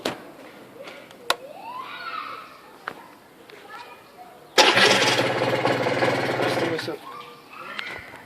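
A cold Aprilia 125 motorcycle engine cranks and catches, running loud and close for about two seconds in the middle of the clip before dying away, with people talking before and after.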